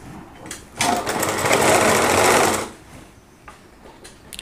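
A sewing machine stitches a lehenga in one steady, loud burst of about two seconds, with quiet handling noise before and after and no voices.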